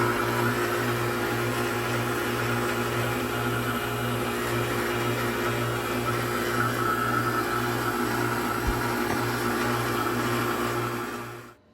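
Jenn-Air refrigerator compressor running on a repaired inverter board after a sealed-system recharge, a steady close electrical hum with a broad hiss and constant low drone that does not change, cutting off at the end.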